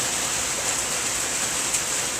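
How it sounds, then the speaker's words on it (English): Steady rain falls outside a lanai in North Fort Myers, Southwest Florida, a dense continuous hiss that stays even throughout with no voices. "As you can hear, it's raining."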